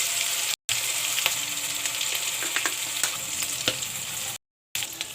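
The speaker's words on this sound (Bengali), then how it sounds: "এখন সব মশলাকে কষিয়ে নেব" Spices sautéed in a pan give a close, constant frying sizzle with scattered spoon scrapes and taps, cut by two brief gaps of silence, and no one speaks.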